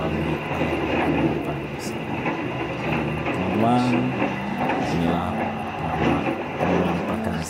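The Argo Bromo Anggrek luxury passenger train, heard from the rear, rumbles along steadily with a continuous droning roll and tonal hum, loud and close throughout, no voices.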